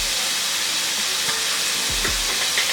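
Meat browns in a hot pan with a dense, steady sizzle and frying hiss heard up close, broken by a few brief scraping stirs.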